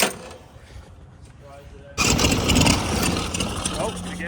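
A go-kart engine cranks and catches, quiet cranking followed by a sudden loud burst into a steady running roar, with voices nearby.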